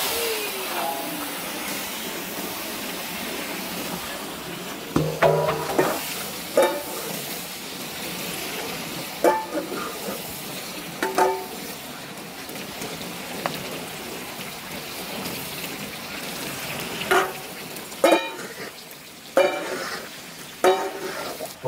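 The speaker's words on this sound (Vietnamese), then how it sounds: "Tiếp tục chiên lượt hai nhá." Food frying in a pan for a second batch, giving a steady low sizzle with occasional louder pops and stirring clatters, growing busier toward the end, with no talking.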